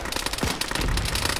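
Rapid crackling bursts and a low thump of a grenade exploding in the military shooter Arma during a ShackTac squad session, loud and close, with dense popping through the whole moment.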